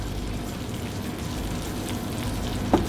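Vegetables and cheese sizzle gently in a pan over low heat for Turkish menemen, a soft, steady crackle close up with a single small clink near the end.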